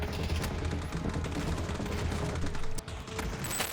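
Dense, continuous gunfire from a shooter video game rattles on steadily, with bursts blending into an unbroken volley and a brief dip near the end.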